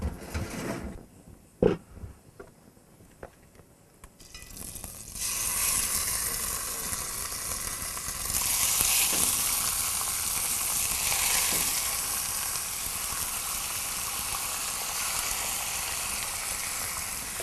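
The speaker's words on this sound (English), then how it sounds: "the neck fillet that's been marinated in olive oil, garlic, salt, pepper and the lime leaves. and we're going to cook it." Marinated pork neck fillet in olive oil, garlic, salt, pepper and lime leaves drops into a hot dry pan with a few clanks, then settles into a loud, steady sizzle that swells and persists.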